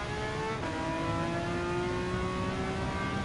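A retro Ferrari race car in Gran Turismo 7 holds a steady, high-pitched engine whine, revving smoothly and continuously from the interior view with no break.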